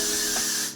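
A short, close hiss of hair spray sprayed onto a wig, one quick burst that fades out.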